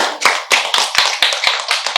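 Rhythmic hand claps ring out alone and close, about eight sharp slaps in a steady beat roughly every quarter second, with no voices.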